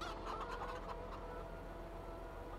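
Chickens at the coops in Farming Simulator 22 cluck softly and continuously at a low level, a quiet farmyard chatter of fowl with no other sounds over it.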